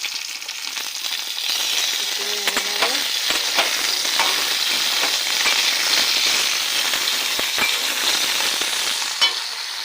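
Drumstick stems fry in hot oil with chopped onion. A steady close sizzle runs throughout, with scattered sharp crackles and pops and a faint clink of a utensil.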